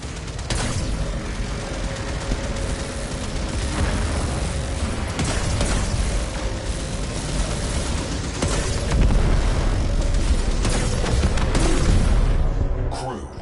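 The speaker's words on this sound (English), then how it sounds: "Fire torpedoes." Torpedoes firing and detonating in the space game To the Solar Seas: repeated heavy booms and rumbling blasts over a continuous mechanical din, with louder explosions toward the end.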